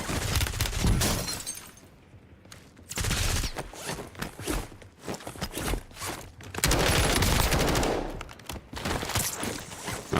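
Bursts of gunfire in Call of Duty Warzone, loud clustered shots in several volleys separated by brief lulls, with crashes and shuffling between them.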